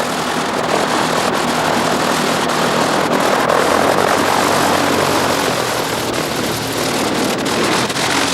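A light aircraft engine runs in flight, a loud, steady roar with wind rush throughout, continuous and unbroken with no talking.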